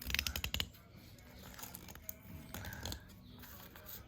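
Tile leveling clips being tightened on freshly laid tiles, a quick burst of close ratcheting clicks followed by quieter mechanical creaks and scraping.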